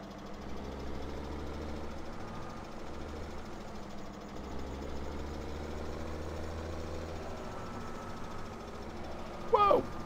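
Tractor engine in Farming Simulator 17 running at a steady low idle throughout, with a deep continuous rumble and a faint clunk near the end.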